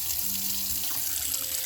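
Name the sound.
tap water running to soak fruit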